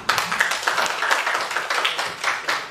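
Indonesian school audience applauding Pak Salimin, a short burst of steady, moderately close hand clapping from a small group, with rhythmic, slightly uneven claps.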